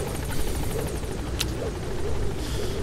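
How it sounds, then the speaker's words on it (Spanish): Helicopter rotor and engine drone from the video game Metal Gear Solid V: The Phantom Pain, a steady continuous whir with rhythmic blade chop throughout, fairly loud and without talk. "vamos a subir al helicóptero"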